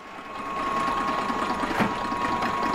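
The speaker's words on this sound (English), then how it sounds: "That's a small agitated hopper up here." Small agitated hopper on a Stokes Tri-Pact 35-station tablet press running with a steady, quiet mechanical whir and a fast rhythmic clatter, a constant hum beneath and one brief louder knock.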